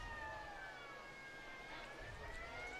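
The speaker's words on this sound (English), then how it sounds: "They brought a siren with them, Charlie." A siren brought by fans at a high school football game wails continuously in the distance, its rising and falling tone steady over a low rumble of crowd noise.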